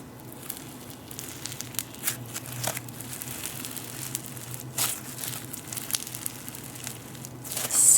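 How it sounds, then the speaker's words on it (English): Slime being squeezed and pressed for ASMR gives off a faint, close-up sizzling crackle of scattered tiny pops and crinkles, with a few sharper bursts near the end. "The sizzle is just amazing."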